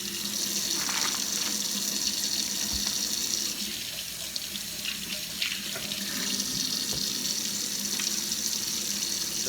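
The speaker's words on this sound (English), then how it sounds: "Now you get to hear the water running for a minute." Water runs steadily from a kitchen tap into a sink, a constant close splashing rush that fills the whole stretch with no pauses.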